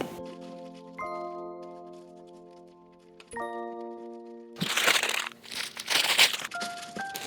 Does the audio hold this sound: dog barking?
no